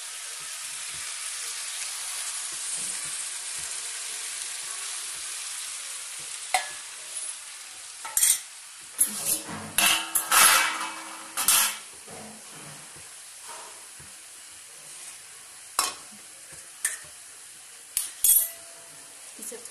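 Spices with turmeric, salt, garam masala and tomato frying in a pan as they are stirred, a steady soft sizzle joined in the second half by scattered loud scrapes and clinks of the spoon against the pan.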